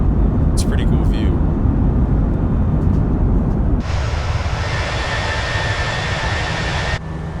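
Airliner jet engines in a flight simulator game during a straight climb-out, a steady loud roar filling the clip under a speaking voice. Partway through, the tone shifts to a brighter, thinner whine with a steady high pitch.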